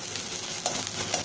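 Onions sizzle and fry in a hot pan as they turn golden brown, a steady close crackle with light stirring scrapes and no voices.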